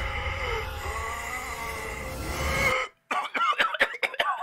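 After a stretch of steady background noise, a person who has choked on something breaks into a rapid fit of harsh coughs, close and loud, with brief gasps between them.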